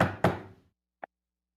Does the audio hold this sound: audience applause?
no